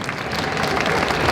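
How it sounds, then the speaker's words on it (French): Audience applause for actress Natalia Tena at a convention talk in Montpellier, a steady, dense patter of clapping from a crowd, fairly close and sustained for the whole brief moment. "On peut applaudir Natalia, s'il vous plaît."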